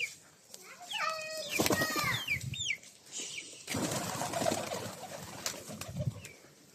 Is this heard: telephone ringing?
no